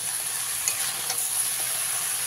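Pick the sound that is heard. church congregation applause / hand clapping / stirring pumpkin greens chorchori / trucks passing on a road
stirring pumpkin greens chorchori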